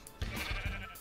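Sheep bleating on a modded Minecraft farm with automatic cow and sheep breeding, several short bleats overlapping into a brief near cluster with no talk.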